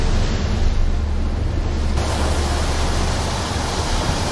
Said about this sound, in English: Chill with the waves, mate!